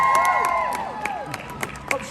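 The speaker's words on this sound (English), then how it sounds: "Cheer for your favourite option." An audience at a street performance in Covent Garden, London, bursts into short cheers, whoops and scattered clapping, with voices mixed into the crowd noise.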